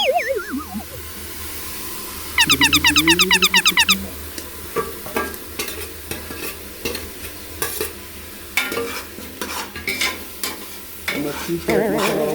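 Secret masala frying for chicken biriyani, a steady close sizzle under repeated scraping stirs of a spoon against the pan, punctuated by a few sharp clatters, with no talking.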